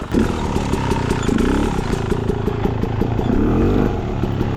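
A Beta Xtrainer enduro motorcycle crawls over rocks on a Rocky Mountain mine trail, its engine loud and close in a low, chugging idle with repeated small throttle blips and rises as it picks its way forward.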